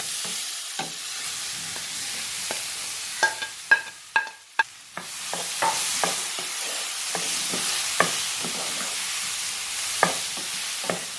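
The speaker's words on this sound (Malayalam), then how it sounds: "ഇനി നമ്മൾ ഇതേ നെയ്യിൽ തന്നെ ഈ കട്ട് ചെയ്ത് വെച്ചിരിക്കുന്ന ഏത്തപ്പഴം ഇട്ട് കൊടുക്കാം." Cut plantain pieces frying in ghee, a soft continuous sizzle broken by sharp clicks and scrapes of a utensil stirring the pan, several in a quick cluster midway.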